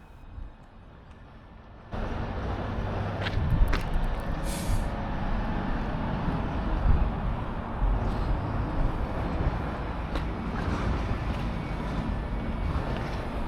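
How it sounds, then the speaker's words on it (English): A Merseyrail train at Moreton Station on the Wirral, its broad rumble rising suddenly and staying loud, with hisses and brief metallic squeals over the noise. "This train is going to Liverpool."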